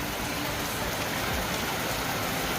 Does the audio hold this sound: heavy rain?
yes